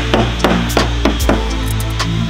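Hammer blows on the welded wheel arch lip of an E36 BMW in a workshop, about seven sharp metallic strikes at a steady, slightly uneven rhythm over a constant low hum, close and loud with no talking.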